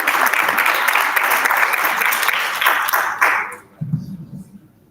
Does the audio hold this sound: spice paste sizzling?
no